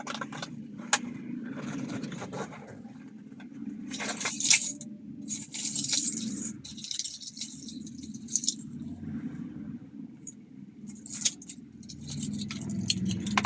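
Keys for a 2002 Ford Ranger Trekker 4x2 jingle and clink near a car interior, in a steady series of light metallic rattles with a few sharper taps, against a low steady background hum; no one speaks.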